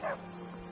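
Dog in the video game Skyrim gives a short, fairly quiet bark or yip at the start, followed by low in-game ambient background hum.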